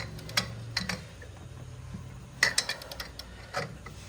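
Wrench clicks and metallic ticks from tightening a rust-seized bolt on heavy-duty brake hardware of a Chevy Silverado 2500, a few sharp bursts scattered across a quiet shop background.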